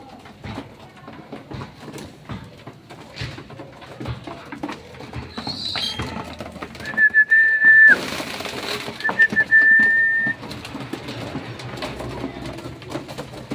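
Pigeons coo softly nearby, low repeated murmurs over faint outdoor background noise, with a couple of brief high tones in the middle.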